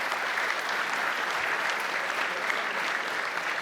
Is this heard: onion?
no